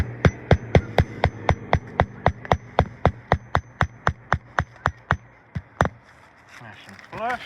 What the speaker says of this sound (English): In order to properly be able to hammer this in, I'm right here and I'm hitting the shingle